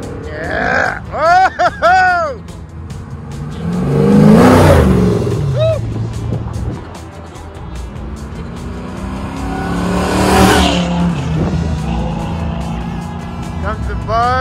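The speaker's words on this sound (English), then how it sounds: "Oh, this truck down here is going to make some noise." A truck roars past with loud, rising revs that swell as it nears and fade away, repeated twice, with excited shouting from bystanders over the engine noise during a car cruise event.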